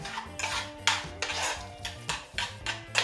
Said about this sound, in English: I'm going to give it a stir